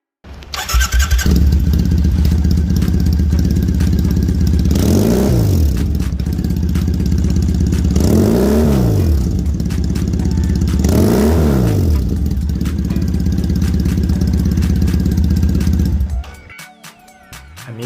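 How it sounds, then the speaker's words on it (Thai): A 2016 Triumph Thruxton 900 with a full D&D exhaust idles with a deep, throaty note and is revved three times, each rev rising and falling. It is loud and close, then the engine cuts off. "เดี๋ยวลองฟังเสียงท่อ DID กันดูสักนิดนะครับ"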